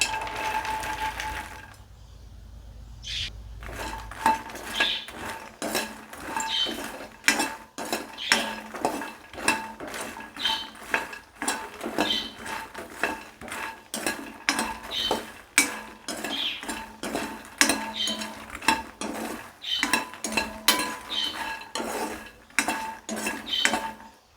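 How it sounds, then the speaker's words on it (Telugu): Dry fox nuts (phool makhana) tumbling into a ghee-coated pan and being stirred, a steady run of close, crisp rattling clicks against the metal with no talk. "ఇప్పుడు పూల్ మఖానా వేసేసుకుందాం"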